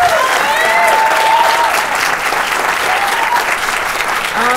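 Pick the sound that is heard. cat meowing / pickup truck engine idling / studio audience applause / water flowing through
studio audience applause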